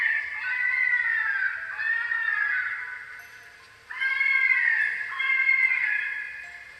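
A fisher's scream, two long wailing cries separated by a short drop, shrill and banshee-like, fairly close and with no voices.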